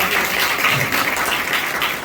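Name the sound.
congregation applauding in church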